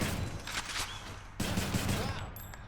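A rail weapon, the Rail of Adamant in Hades, fires rapid video-game gunfire. Bursts of crackling shots run in two stretches with a short break between them. Game effects chime faintly in the background.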